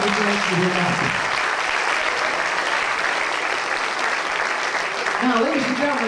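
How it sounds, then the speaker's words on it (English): A dense round of audience applause fills a high school hypnosis show, steady and loud throughout, with someone talking over the clapping at the start and again near the end. "Give another round of applause"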